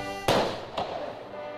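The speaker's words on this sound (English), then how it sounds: "That was just a loud explosion." A sharp, loud blast bursts out, followed by a second smaller bang a moment later, each trailing off into a rumbling decay.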